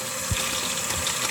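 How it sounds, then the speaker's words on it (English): Hot water gushes steadily into a bucket, a continuous close rushing stream with a dull thump near the start, alone without talk. "I'm going to use hot water to fill this bucket"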